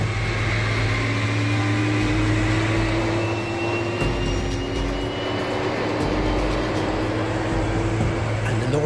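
Handley Page Victor bomber jet engines starting up, whining and roaring steadily, with rising turbine tones over a dense, continuous rumble.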